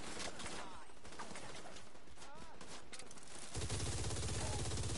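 A firefight in The Division 2 fills the air with bursts of gunfire from several weapons, mid-level and constant, with players' voices talking over the shooting.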